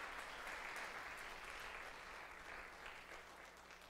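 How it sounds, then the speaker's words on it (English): A chapel service congregation gives a sustained round of applause, soft and steady from a distance, slowly fading over the last seconds. "so let's give our seniors a round of applause."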